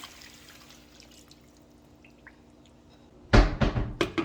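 Water poured into a pot of fish stew layered over potatoes, a loud splashing burst near the end after a quiet stretch of faint kitchen noise.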